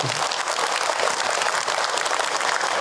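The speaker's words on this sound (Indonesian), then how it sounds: "Tepuk tangan buat kita semua" A congregation at an Indonesian Islamic sermon on married life claps together in a steady, even wash of applause, fairly loud and without talk over it.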